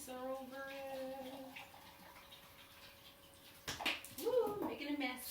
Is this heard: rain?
no